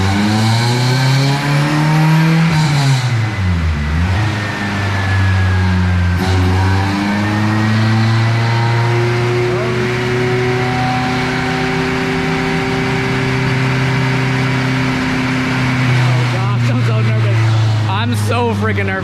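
A K-swapped Honda Civic runs on a dyno, its engine and exhaust droning loud and close, sweeping up and down in pitch as it revs through a long pull, with a voice talking over it.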